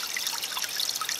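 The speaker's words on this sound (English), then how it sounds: "I'll leave you with the water feature running. I know it's just the barrel." A backyard water feature trickles steadily into a barrel, a close, continuous light splashing and babbling with no pauses and no voices.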